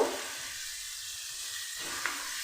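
Chicken and mashed potato filling frying on a low gas flame, a steady soft sizzle with a brief clink near the end, close and even with no voices.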